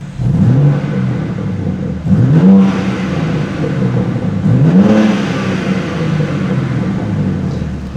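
A car's exhaust note in sport mode with the valves open sounds as a continuous nearby engine drone, punctuated by three rising rev blips that climb and fall back at regular intervals.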